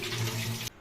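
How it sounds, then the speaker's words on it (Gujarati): Dirty rinse water pouring steadily off soaked rice and lentils for idli batter, a continuous gushing splash that cuts off abruptly near the end, with no talking. "જો આ જે ગંદુ પાણી છે એને કાઢી દઈશું આપણે।"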